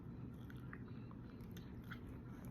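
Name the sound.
chewing food with braces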